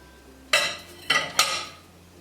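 Toasted pumpkin seeds drop into a pot for pozole verde in three quick, close clattering pours, crisp and bright against a quiet kitchen.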